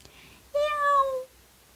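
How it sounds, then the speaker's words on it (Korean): A kitten meows once in front of a shop door, a single clear, drawn-out cry lasting under a second against a quiet background. "가게 문 앞에서 새끼 고양이 한 마리가 울고 있다."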